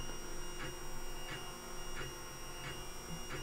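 A Lulzbot Mini 3D printer runs a print with a steady mechanical hum and whine, and soft periodic clicks or ticks recur about every second and a half at moderate distance.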